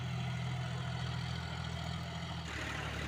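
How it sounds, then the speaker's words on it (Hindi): A John Deere tractor fitted with a rotavator runs with a steady, loud low engine drone at a village tractor competition, its tone shifting slightly near the end. "रोटावेटर लगा हुआ है।"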